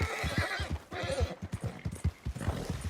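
A horse in a video game trots with steady, rhythmic hoofbeats close by, and a whinny rises over the clip-clop partway through.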